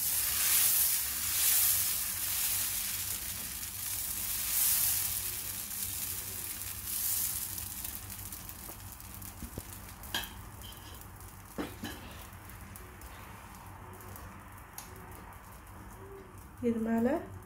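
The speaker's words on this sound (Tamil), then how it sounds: "இப்போ நம்ம தோசை ஊற்றலாம். நல்லா மெலிசாக ஊற்றிக்கோங்க." Dosa batter poured onto a hot tava gives a broad sizzling hiss that is strongest at first and gradually quietens, with birds cooing nearby and a few sharp clinks and clatters.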